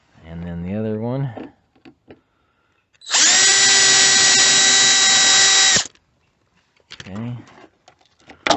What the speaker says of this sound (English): And the rivet head is stuck to my drill.